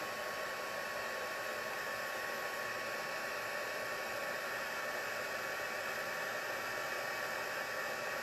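A hair dryer blows steadily on watercolor pencil and white craft ink, a loud, constant airy roar that holds without a break for the full length, with no talking over it.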